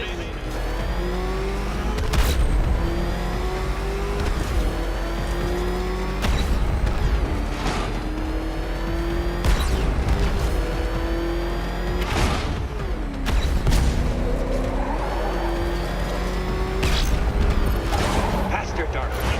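In Batman Arkham Knight, the Batmobile's engine roars through repeated rising revs as it accelerates and shifts in a steady cycle, loud and close, with tire noise and game voices speaking over it.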